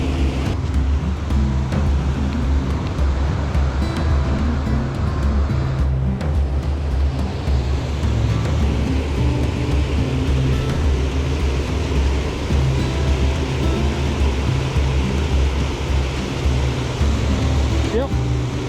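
Water rushing over a spillway on the Provo River, a constant loud broadband roar filling the whole stretch, with a person talking intermittently over it.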